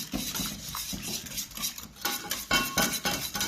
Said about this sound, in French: J'utilise le fouet. Donc je verse ce mélange sur ma farine